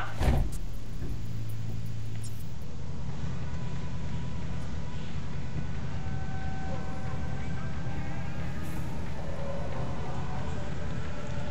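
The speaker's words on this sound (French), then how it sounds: "Voiture de nomade." A nomad car in Cyberpunk 2077 drives steadily with a continuous low engine drone and road rumble, a sharp burst at the start, and no talking over it.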